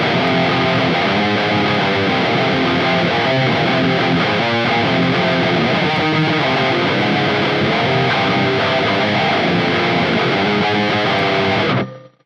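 Heavily distorted electric guitar through a Quad Cortex plays loud, continuous chords and riffs for several seconds, then cuts off abruptly at the end.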